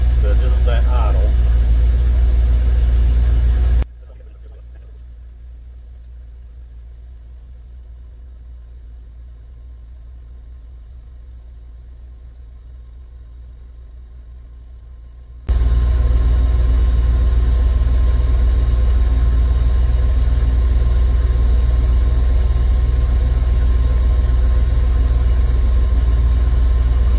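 A steady engine-driven air compressor idle hums low and even, dropping sharply quieter for several seconds before returning at full level.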